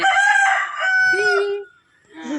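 A village chicken: a rooster crows loudly and close, one drawn-out call, followed by a short clucking squawk.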